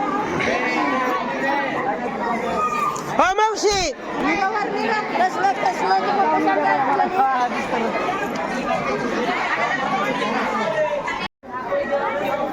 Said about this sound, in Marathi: कलोळ तीर्थ तर कलोळावर अशी गर्दी पडली सगळी